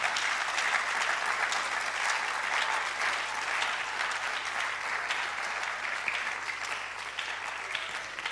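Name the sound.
audience applause at a public lecture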